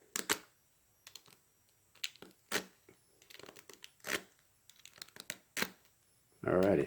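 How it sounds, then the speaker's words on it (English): A blade cutting a foam sanding block, producing short scraping and tearing bursts close by at irregular intervals, with a person speaking in between. "I'm cutting away from myself."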